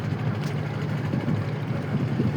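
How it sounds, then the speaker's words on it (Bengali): Aboard a ferry crossing the Buriganga river, a low, continuous engine rumble drones beneath wind buffeting the microphone, steady throughout with no talking. "ফেরিতে আছি, ভক্তবলী ফেরিতে।"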